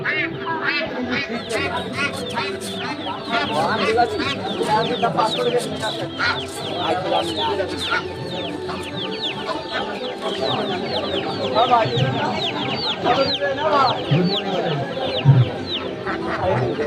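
Fourteen-day-old tiger breed chicken chicks at a livestock market peep in a dense, continuous high chorus up close, with a few louder squawks mixed in and people talking nearby.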